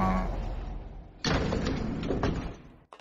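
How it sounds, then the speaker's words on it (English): An old 1940s elevator in L.A. Noire runs with a steady mechanical rumble, broken by a sharp clanking jolt partway through. The rumble continues, then cuts off abruptly near the end. "40's elevator sounds scary"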